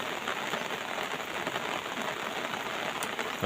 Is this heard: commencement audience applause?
no